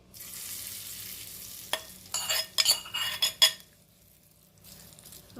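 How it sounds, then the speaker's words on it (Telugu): Dried red chillies and curry leaves are tossed into hot tempering oil for a brinjal and raw coconut chutney. A low hiss gives way to a burst of crackling spatter and metal clinks, then fades. "మిరపకాయలు ఇదే వేస్తున్నానండి. కరివేపాకు తిరగబాత వేస్తున్నానండి."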